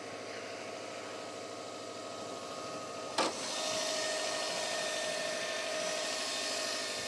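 Turbocharged engine of a Subaru WRX STi idling with the hood open, a steady broadband mechanical hum with a brief click partway through, then a slightly louder, even drone with a faint whine.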